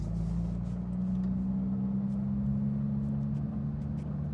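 A Porsche GT3 cruises through the Treviso neighborhood on a Sunday morning, giving a steady low engine drone with a constant hum and faint light ticking on top, even and unbroken throughout.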